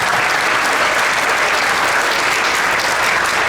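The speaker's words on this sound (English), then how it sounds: "Round of applause for them." An audience applauds the trumpet section at a sixth grade winter concert, a dense, loud, even wash of clapping throughout.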